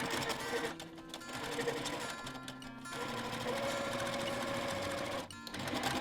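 A sewing machine stitches a boho bag, running in steady whirring bursts with brief pauses as the needle stops and the fabric is turned, close and fairly loud with no talking.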